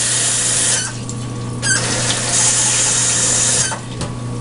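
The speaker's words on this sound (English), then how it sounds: "Let me just wash my hands real quick." Tap water runs steadily and close by as hands are washed at a kitchen sink, a continuous hissing flow with brief splashy changes and no talking.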